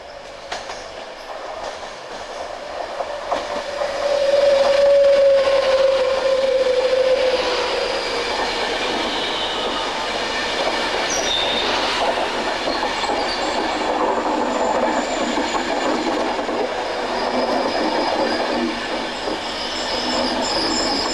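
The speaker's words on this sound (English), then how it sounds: "Whether this is a train that's going to stop or not, I really don't know." A Virgin Voyager train rolls through Dumbarton station, loud and close, with a rising roar, a steady high wheel squeal and rhythmic clattering over the rails that continue for about twenty seconds.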